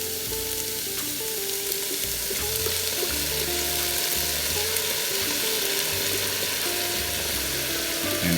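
Shrimp fried rice frying in a Ninja Foodi 10-in-1 as soy sauce goes in, with a steady loud sizzle throughout, plus a low mechanical whir and some clicking and stirring scrapes.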